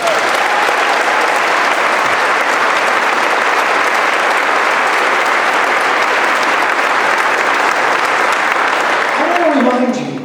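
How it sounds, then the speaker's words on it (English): Sustained, loud crowd applause at a Tucson Tea Party rally fills the whole stretch evenly, then tapers off at the very end. "So give her a round of applause."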